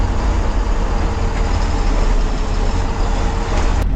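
A packed Maharashtra state transport (MSRTC) bus on the Borivali to Sakharpa route pulls away from the stand, its diesel engine giving a loud, steady, continuous rumble heard from inside the cabin, with no talk.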